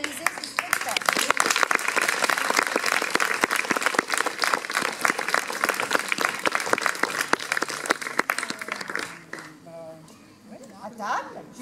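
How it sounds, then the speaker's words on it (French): A theatre audience gives the show's author sustained, dense applause at the end of a performance, loud and even for about nine seconds before thinning out, with voices speaking as the clapping fades. "moi j'aimerais remercier et qu'on applaudisse Odile Violinet"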